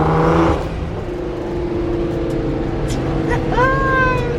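A flame-tuned Nissan GTR engine holds a loud, steady drone from its intakes, with a sharper burst of revving at the very start and a brief rising whine near the end.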